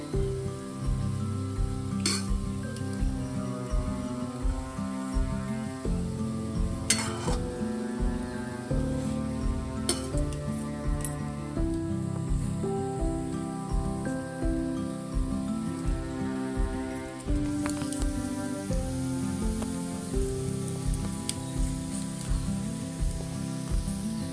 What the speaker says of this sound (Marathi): असे अलटून पलटून ना तळायचे आहेत ते ढवळत चांगले.